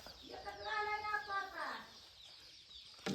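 A single rooster call with a stretched, wavering tone sounds close by for about a second and a half, then fades into faint background noise.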